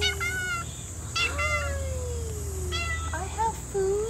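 Several cat meows, some short and some drawn out, ring out close by at an old rural house in the Korean countryside, over a steady low hum.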